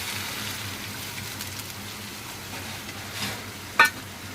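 Potatoes and pointed gourd fry in a pan with a steady, soft sizzle running throughout, broken by a few light stirring scrapes and one short sharper clink near the end.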